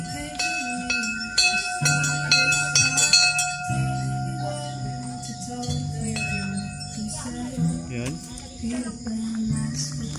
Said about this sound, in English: Let's try to ring this bell.